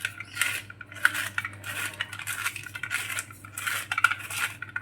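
Almonds are chopped in a small cutter, making repeated metallic clicking and scraping bursts in an uneven rhythm, close and fairly quiet, with no talking.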